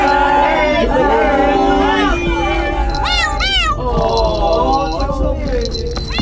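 Cats meow repeatedly in a video game, with several rising and falling calls, some overlapping, over a constant background hum and a loud voice talking.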